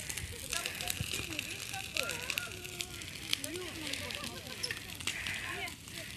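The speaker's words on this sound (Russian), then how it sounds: "Ребята, какой прикольный костер." A campfire crackles and pops steadily at close range outdoors, with children and adults talking over it throughout.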